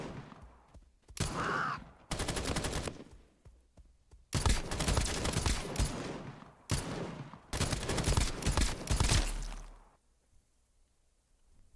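Rapid automatic shooting fired downward in the action game Path of Exile, several loud sustained bursts separated by short gaps, ending in near silence.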